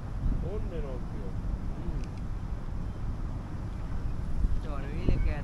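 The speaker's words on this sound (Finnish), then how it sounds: "Se on ilkeä tuuli tuolta." Wind gusts outdoors beside water during a fishing trip, a steady rumbling buffet across the microphone, with voices talking over it.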